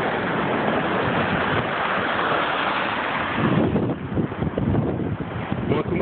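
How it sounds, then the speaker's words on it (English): Lake waves wash onto the shore with a broad, rushing surge that roars steadily and then breaks into choppier splashes, accompanied by wind noise. "Those waves will sweep you"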